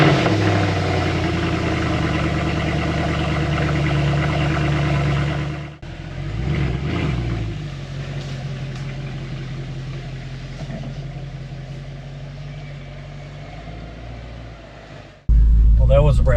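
A cold car engine runs steadily at idle, a low constant rumble, then cuts abruptly, followed by quieter mechanical noise and a sudden loud return.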